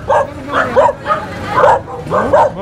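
A dog on a Philippine street near parked motorbikes barks and yips in a quick series of close, loud, high bursts, with faint whimpering between them.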